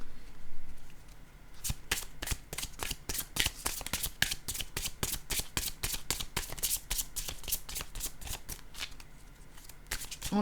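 A deck of playing cards is handled up close, starting quietly, then breaking into a long, steady stretch of sharp riffle-shuffle snaps, followed by a card being drawn, with no talking.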